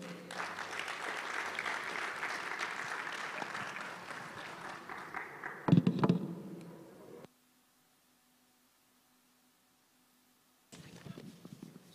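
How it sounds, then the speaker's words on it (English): Audience at an international academic conference applauding, moderately distant clapping for several seconds that fades out, followed by a quiet gap and a brief burst of sound at the end. "A round of applause for him."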